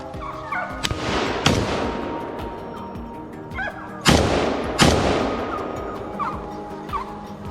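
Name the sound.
gunshots during a wild boar hunt in a forest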